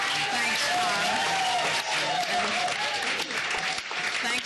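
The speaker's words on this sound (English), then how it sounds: "I hope you can hear the applause" Steady, sustained applause from a meeting audience, many hands clapping in a dense continuous wash at even loudness, with a faint murmur of voices mixed in.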